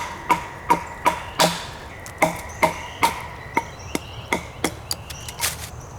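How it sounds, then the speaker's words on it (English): An axe strikes wood repeatedly while splitting out a piece for a bow drill spindle, each sharp, close chop ringing briefly in an uneven rhythm of about fifteen blows, with no talking. "split this piece out so that I can start carving that spindle with my axe"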